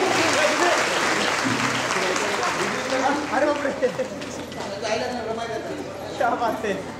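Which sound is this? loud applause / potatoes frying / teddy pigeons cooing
loud applause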